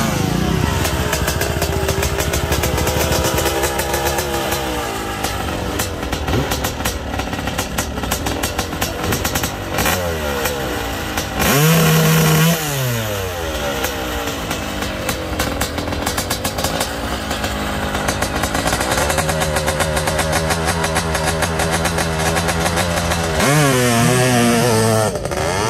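A Honda CR500 two-stroke dirt bike engine revs hard at a motocross track, a loud, raspy, continuous blare rising and falling through repeated throttle blips and sustained high-rpm runs.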